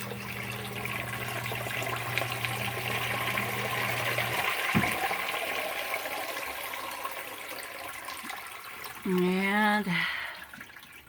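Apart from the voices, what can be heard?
water refilling sump pit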